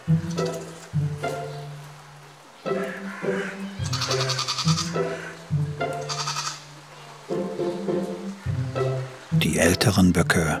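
Billy goats at a zoo bleat loudly and repeatedly, close-up wavering calls coming one after another, with a harsher burst near the end and a voice talking over them.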